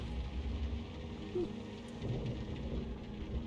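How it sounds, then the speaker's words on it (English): Steady rain patters on the main menu of the video game Sherlock Holmes: Crimes and Punishments, with soft low rumbles beneath. It is a faint, continuous wash of ambience with no voices. "I could still hear the rain though"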